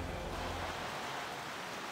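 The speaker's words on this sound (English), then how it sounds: "It's raining. Can they battle the elements and win?" Rain hisses as a steady wash with a low thunder rumble fading early on, the weather ambience of a football video game, with no commentary over it.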